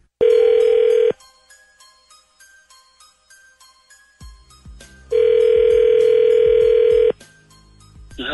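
Telephone call tone: two long steady ringback beeps with a quieter stretch of faint background noise between them, loud and close over a phone line, no talk.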